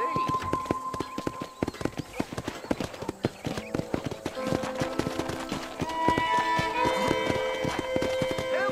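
Horses clip-clopping around a ranch corral in the video game Red Dead Redemption, with dense overlapping hoofbeats, an occasional whinny and game music underneath, close and continuous.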